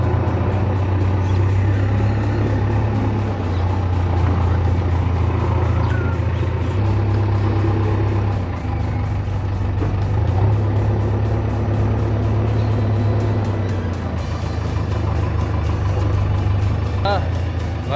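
A JCB backhoe loader's diesel engine drones loud and steady while it levels soil at a village wedding, with brief shifts in load and someone talking over it.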